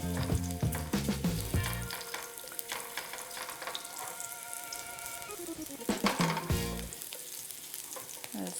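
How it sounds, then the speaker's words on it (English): Ginger sizzles and crackles loudly in a hot pan for a chicken stir fry, with stirring scrapes and a burst of louder frying near the start and again around the middle, no voices. "So we'll put the ginger first. Let it have a head start, so we can get the aroma going."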